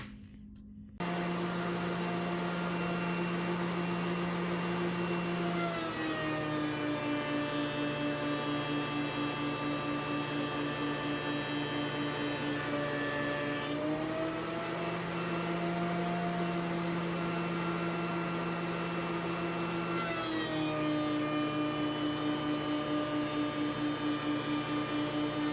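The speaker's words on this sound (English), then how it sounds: "I'm going to set my planer up and plane this stuff down." Thickness planer shaves strips of wood in a workshop, a loud, steady motor drone with a high whine whose pitch dips each time a board feeds through the cutters, repeating over several passes.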